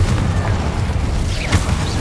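The Incendio fire spell cast in the video game Hogwarts Legacy: a dense, continuous whooshing, crackling rush of flame with low booming weight, loud and steady throughout with no pauses.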